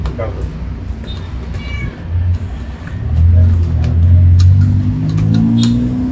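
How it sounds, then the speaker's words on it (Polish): A cat meows a few times in a home kitchen while a peanut-butter marble cake batter is being mixed. The short, fairly close calls mix with ongoing talk and low background rumble. "Kot przyszedł."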